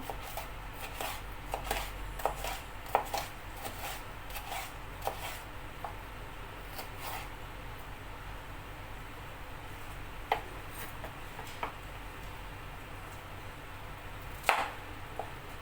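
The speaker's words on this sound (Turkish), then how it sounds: "Bunları çok minik minik doğramam lazım." A knife finely chops vegetables on a board, quick irregular taps and cuts in bursts with short pauses, close up and without speech.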